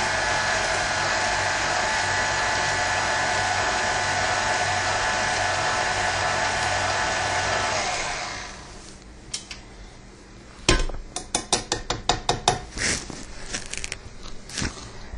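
Electric mixer blending carrot cake ingredients runs with a steady, loud whir for about eight seconds, then stops, followed by scattered clinks and taps of bowl and utensils.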